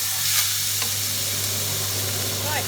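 Butter sizzles steadily in a pan, a dense, even hiss that is close and loud and lasts the whole short clip without pause.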